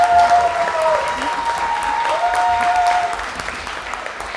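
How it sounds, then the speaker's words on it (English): Loud, thundering audience applause at the close of a formal debate, a dense sustained wash of clapping from a large crowd that holds steady for several seconds, with faint tonal sounds running underneath. "I'd like to have a thundering applause for Simona Sara Finowska."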